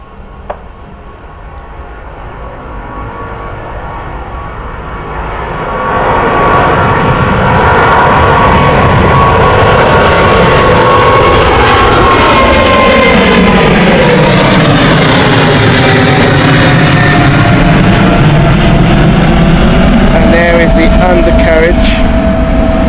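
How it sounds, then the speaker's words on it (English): A British Airways Boeing 777-200 takes off at Gatwick Airport, its jet engines swelling from a distant rumble into a loud, sustained roar with a sweeping whine as the aircraft passes and climbs away. "BA 777 heading off now. This is the Orlando flight with BA 777-200."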